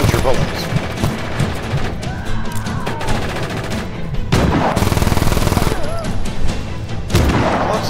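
Rapid automatic gunfire and explosive bursts from the Just Cause 3 video game, loud and continuous through the whole stretch, with a voice speaking over the shooting.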